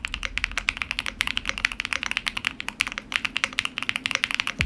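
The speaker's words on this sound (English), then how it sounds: "The keyboard feels amazing to type on and sounds great right out of the box." Fast, steady typing on an aluminum mechanical keyboard, with crisp, dense keystrokes clacking close by in an unbroken run.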